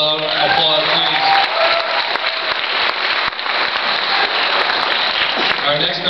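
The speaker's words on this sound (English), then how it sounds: "Give her a loud applause, please." A concert audience gives sustained, loud applause for a band's stand-in drummer. The clapping is dense and steady, with a few trailing musical tones at the start and end.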